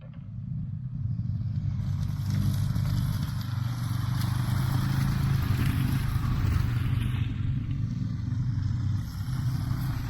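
A motorcycle engine hums steadily nearby on a hill road, swelling slightly in the middle as it passes, with no voices.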